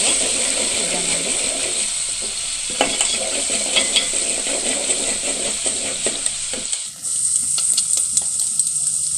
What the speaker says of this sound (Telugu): కొంచెం తీసుకొని బాగా ఫ్రై చేసుకోవాలి